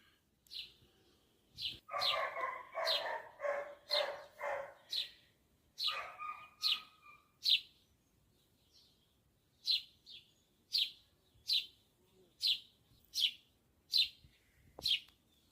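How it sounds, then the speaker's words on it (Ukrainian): Birds chirp in a steady series of bright, evenly spaced calls nearby on a hot day, with a burst of busier, throatier clucking notes from hens near the start. "пташки, курочки співають."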